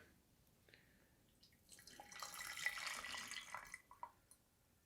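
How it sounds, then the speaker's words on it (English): Hot green tea is poured from a vessel into a pitcher, a quiet, close splashing trickle that swells after two seconds and fades with a few drips near the end. "And then we're going to pour it into the pitcher."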